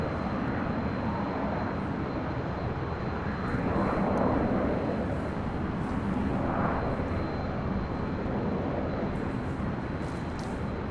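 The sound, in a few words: Delta Airlines Airbus A319 arriving at LAX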